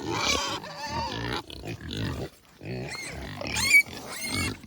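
A pig squeals and grunts in loud, close bursts with short pauses between them, and a few high shrieks rise above the rest.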